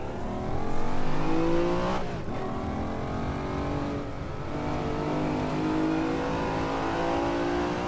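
Race car engine roaring continuously through a lap of the Hometown track in Assetto Corsa, loud and sustained with rising and falling revs across gear changes.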